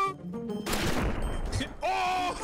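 Gunfire in the Garry's Mod nextbot game, a short burst of rapid shots crackling through the middle, with voices shouting before and after it.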